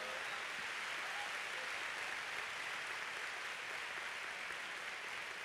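A church congregation applauds in a steady, dense wash of clapping that holds evenly for several seconds, filling the room without a break.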